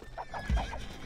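Horses whinny in the Age of Empires II strategy game, a short, close, high neigh with a faint clip-clop of hooves beneath it.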